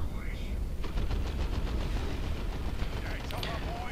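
Rapid bursts of gunfire from a truck in a Warhammer 40K tabletop-style battle game, a steady dense crackle of shots filling the clip with a few brief higher whines near the end.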